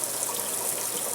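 Collected rainwater pours steadily onto freshly potted pepper plants in a greenhouse, a continuous close splashing trickle with no pauses.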